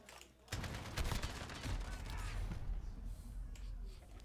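Gunfire in the video game Call of Duty Modern Warfare, a dense, sustained burst of rapid shots with clatter, loud and continuous, with no talking over it.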